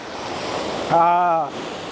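Sea waves roar steadily against a beach in a broad, fairly loud wash, while a brief tonal voice-like sound rises over the surf around the middle.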